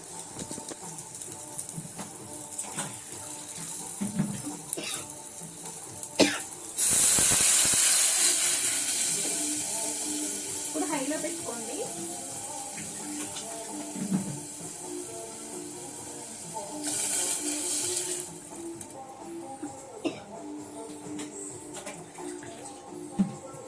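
Water poured into a hot pan for omam rasam gives a sudden loud hissing burst of steam that fades over several seconds, with a second shorter hiss later, over low kitchen background noise.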